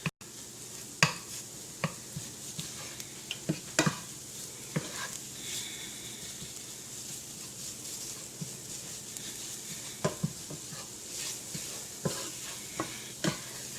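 A spoon stirs flour cooking in a pan of sausage gravy, scraping and tapping at irregular intervals over a soft, steady sizzle.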